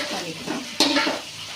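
Idli pieces with onions being stirred in a frying pan, a short scrape and clatter of spatula against metal over a soft steady sizzle.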